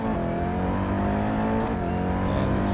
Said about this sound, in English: And it sounds like Koenigsegg.